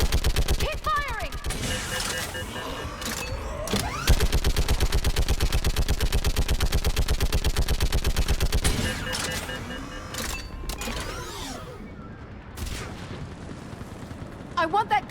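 Rapid automatic gunfire in a battle in Mass Effect 3, loud sustained bursts with explosions and shouted voices over the shooting.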